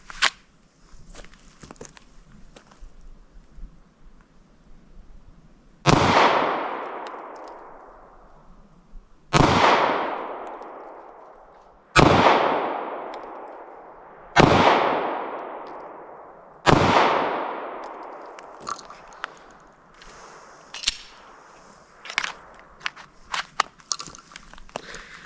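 Five sharp pistol shots from a Glock 43X ring out at a few seconds' spacing, each followed by a ringing metallic decay from steel targets, with softer knocks and handling noises afterward.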